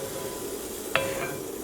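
Food sizzles steadily in a hot pan on a home stove while being stirred, with one sharp clink of a utensil against the pan partway through.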